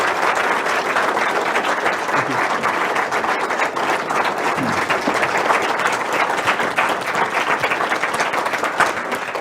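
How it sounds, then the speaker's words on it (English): Loud, dense audience applause after a debate, steady continuous clapping from a full crowd holding at an even level throughout without pause. "how about a round of applause for our two debaters?"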